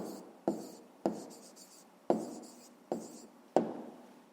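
A pen or chalk writes an answer, making about six sharp tapping strokes at irregular intervals. Each stroke is brief and close, with a short scratch after it, and nobody speaks.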